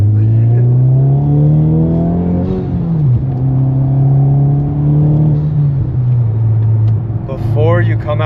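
A 2023 Acura Integra Type S, untuned, accelerates hard on an empty road, its engine climbing through gears in loud rising pulls from inside the cabin, with short shifts and people talking over it.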